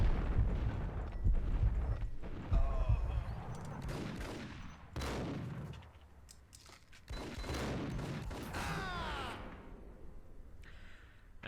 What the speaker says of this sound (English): See, now we're using bullet time.